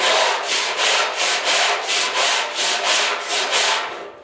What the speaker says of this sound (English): I'm in my Zen place when I'm sanding the filler.